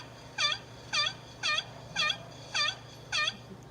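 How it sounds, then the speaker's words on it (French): A wild turkey gobbles six times in steady succession during a turkey hunt, each call a short rattling burst about half a second apart, moderately distant over a low background hum. "Habituellement, le dindon va répondre."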